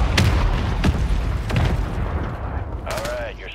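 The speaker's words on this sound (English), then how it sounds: "They dropped many mortars on top of us." Mortar shells exploding in a video game, several loud nearby booms in quick succession with rumbling tails and mechanical clatter, and voices talking alongside.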